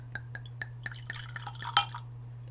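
A small taste of wine is poured into a wine glass in a quiet, close-up tasting setting, with soft ticks and drips, then a brighter glassy clink near the end.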